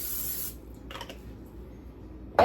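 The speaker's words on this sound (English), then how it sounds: "I use the olive oil non-stick cooking spray" A short hissing burst of olive oil non-stick cooking spray at the start, some faint rustling, then a brief sharp spurt of spray at the end.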